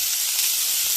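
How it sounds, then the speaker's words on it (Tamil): Onion hits hot oil in a pan for kuzhi paniyaram, giving a loud, close, steady hiss of sizzling that holds evenly for a brief moment without any talk. "எண்ணெய் காஞ்சிருச்சுங்க. ஃபஸ்ட்டு வெங்காயம் போடுங்க."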